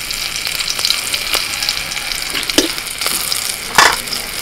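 Bay leaf with dried and green chillies spits in hot oil, a close crackling sizzle broken by sharp pops and a few louder spatters.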